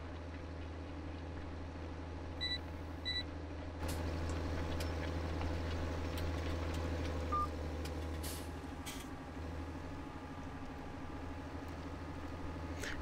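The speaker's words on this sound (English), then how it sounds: "It's a powerful tractor." Steady low tractor engine drone in Farming Simulator 2017, a powerful, torquey T-series machine, running continuously at a constant pitch with faint electronic beeps early on and no talk.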